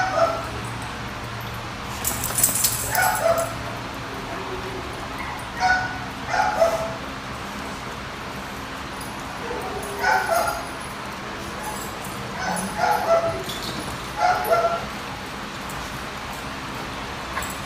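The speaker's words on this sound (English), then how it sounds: "you can obviously hear there's a dog in the background barking" A dog barks in short repeated bursts with yips and whimpers inside a veterinary hospital lobby, the calls coming in clusters every few seconds over a steady indoor hum, moderately close and without talk.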